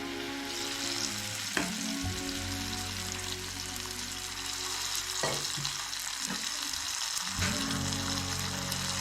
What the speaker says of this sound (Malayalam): അപ്പോൾ കടുകും ഉള്ളിയൊക്കെ നന്നായി പൊട്ടി വന്നിട്ടുണ്ട്